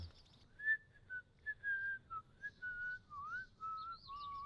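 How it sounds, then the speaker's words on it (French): A man whistles a wandering, halting tune alone in a quiet space, clear and close, with short pitch slides and breaks between notes. "je siffle, ça m'aide"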